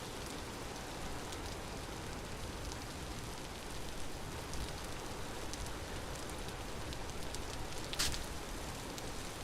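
Steady rain falling on a surface, a dense even hiss with scattered drops, continuous and fairly close, with no voices.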